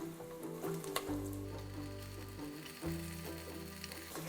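Green chilies and curry leaves fry in hot oil, giving a faint, steady sizzle with a few crackles and stirring clinks, close by and without talk.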